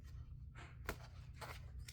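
A tarot card deck is cut by hand in a few quick, soft papery snaps and slides, heard close and quiet against a low steady hum.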